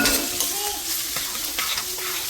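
Onion and capsicum sizzle in a hot pan, a continuous bright frying hiss with intermittent scrapes of stirring close by.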